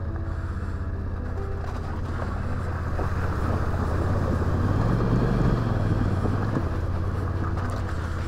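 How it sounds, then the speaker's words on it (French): A Yamaha Ténéré motorcycle fords a river, its engine a continuous drone that swells toward the middle amid rushing water and gusts of wind on the microphone. "alors je fais passer les 2 motos"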